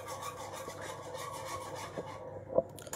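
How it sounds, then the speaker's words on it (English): A whisk scrapes steadily through milk, butter and oats flour in a bowl, producing a continuous close rasping rub with a light clink near the end and no talk. "I'm just going to whisk it so that it's nice and smooth"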